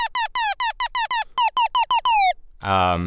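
A rapid run of bright, chirpy square-wave synth laser zaps with falling pitch, about a dozen in quick rhythmic succession, followed by a short buzzy hollow tone.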